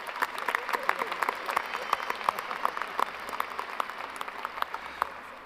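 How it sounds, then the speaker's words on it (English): Audience applause at a high school graduation ceremony, a steady patter of many hands clapping, with a few sharper individual claps, in a large hall. "Now you can clap."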